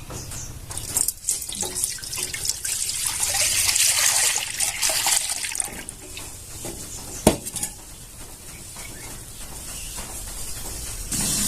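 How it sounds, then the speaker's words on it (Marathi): Milk poured into a pan on a lit stove, a steady running, splashing pour with light clinks of a metal pan, continuous and close, with no talking. "आता आपण त्याच्यात दूध ओतून घेऊया"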